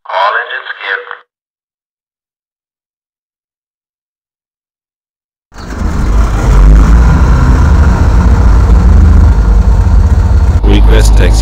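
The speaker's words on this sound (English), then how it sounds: "Ready for engine start. All engines geared." A320 jet engines in a flight simulator cockpit, a loud, steady broadband roar with deep rumble that starts abruptly after a brief radio-style voice and a pause, then holds for several seconds before cutting off.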